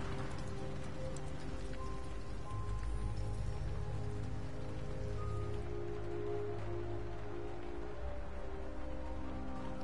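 Steady rain falls in the video game Detroit: Become Human, a continuous even patter filling the whole scene at moderate level with no voices.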